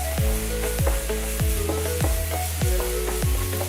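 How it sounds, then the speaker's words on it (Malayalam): Mint leaves sautéing in a pan over a medium flame, a continuous sizzle broken by rhythmic stirring strokes about every half second, close and fairly loud. "കുറച്ച് ചപ്പ് പുതിന, മീഡിയം ഫ്ലെയിമിലിട്ട് നന്നായി വഴറ്റിയെടുക്കുക."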